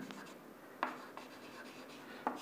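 Writing on a board during a lecture, faint scratchy strokes with a few sharper taps as the marker or chalk meets the surface, in a quiet room.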